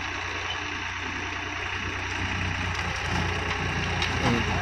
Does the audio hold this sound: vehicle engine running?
yes